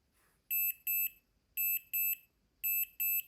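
Bluetooth item tracker tag, a Find My-compatible air tracker, playing its locating sound: three pairs of shrill, high-pitched electronic chirps repeating in a regular rhythm, fairly faint and alone.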